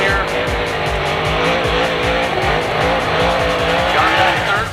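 Formula D drift cars at the Atlanta event sweeping through the horseshoe corner, loud continuous engine roar with tire squeal and skidding throughout, rhythmic pulsing under crowd and commentary noise.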